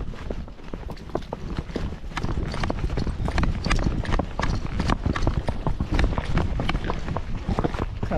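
Tennessee Walking Horse hooves pounding steadily at a quick gait or canter, a dense, loud, continuous run of close clip-clop beats with no pauses.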